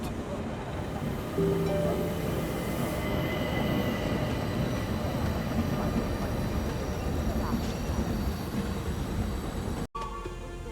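Orient Express rail carriage running at speed, a continuous rumbling clatter of wheels on track with faint squeals, steady and close throughout, briefly cut off near the end.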